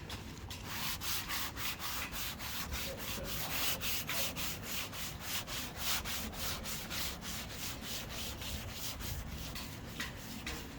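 A clay cloth is rubbed back and forth over tree-sap-contaminated paint on a Vauxhall Cascada, producing a steady close gritty scrubbing in a fast even rhythm that continues throughout without any talking.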